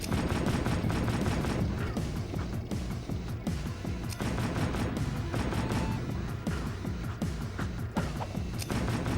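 Rapid gunfire in a video game, dense bursts of shots and impacts overlapping without a break, loud and close, with no voices.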